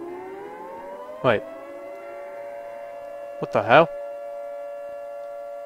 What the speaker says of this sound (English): That's a siren going off.